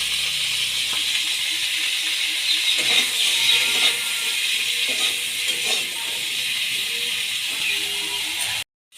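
Cut yellow cauliflower florets frying in hot oil in a pan with a little salt, giving a steady bright sizzle and light rattling stirs, close and even, cutting off abruptly at the end.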